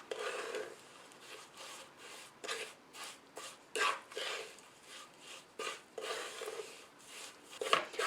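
Spices and ghee stirred together in a pan for Adadiya paak, a winter sweet, giving close, repeated scraping and rubbing strokes at an uneven rhythm, with no voices.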